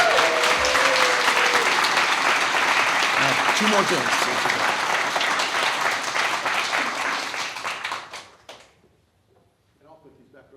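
Applause fills a Gainesville city commission workshop after a mayoral proclamation. A room full of people claps steadily, then fades out near the end, and a few words are spoken over it.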